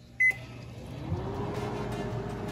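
Microwave oven heating a bowl of oatmeal, a short sharp beep followed by the steady low hum of the running oven, close and moderately quiet, with no talking.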